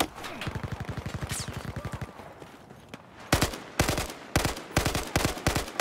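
Rapid automatic gunfire in Battlefield 4 rattles in a fast steady burst, then a pause before several louder, sharper bursts of shots cut in and out, close and punchy.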